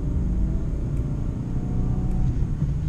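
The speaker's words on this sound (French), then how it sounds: "Vous m'entendez ce moteur?" A small three-cylinder petrol engine in a third-generation Citroën C3 idles with a low, throbbing rumble, steady and close, with no voices.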